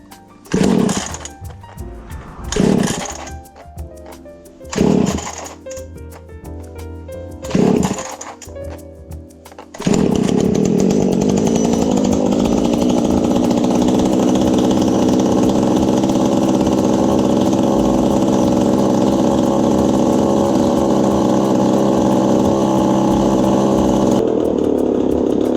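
A small engine is yanked over in several separate sputtering bursts before it catches, then settles into a loud, continuous buzzing run that holds steady to the end.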